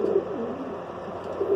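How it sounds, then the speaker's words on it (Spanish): A pigeon cooing in courtship toward another pigeon: a soft, continuous throaty coo, close and fairly faint, without speech. "Está enamorando a la otra paloma de arriba."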